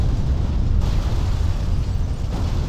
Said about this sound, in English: Oh, there are bombs. He threw the bombs at him!